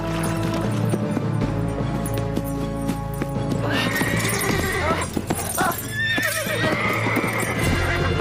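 Horse hooves clip-clop at a steady pace, and a horse neighs loudly partway through, with faint mechanical clanks in the background.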